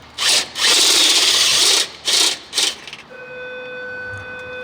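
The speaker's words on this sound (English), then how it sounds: "I'm just going to drill a hole in the dash" Power drill boring a hole in a car dash, several loud bursts of whining drilling separated by short pauses, then stopping, leaving a faint high electronic tone.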